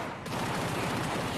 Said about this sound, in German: Schießen sich da oben ja schon die Birne weg wegen dem Airdrop.